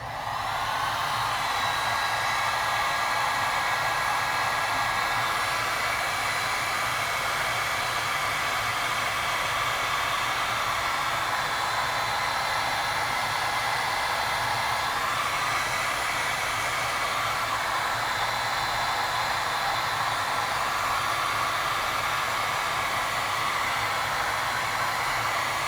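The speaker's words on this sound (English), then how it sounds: "then we're gonna go ahead and first heat shrink this" A heat gun blows a steady, loud hiss of hot air while shrinking heat shrink tubing on wire, unbroken for the whole stretch with no talking.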